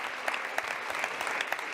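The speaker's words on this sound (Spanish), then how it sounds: "recibe el aplauso de los presentes" Applause at the 2021 Cervantes Prize ceremony as the award for Cristina Peri Rossi is handed over from the King: a soft, steady, evenly spread crowd clapping that sounds distant and continuous.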